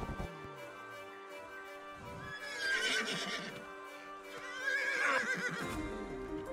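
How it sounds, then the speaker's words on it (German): In the video game Rustler, a horse gives two loud, shrill whinnies a couple of seconds apart, with soft hoof clops and shuffling between them. "Mit Tab kann man auch Pferde wiehern."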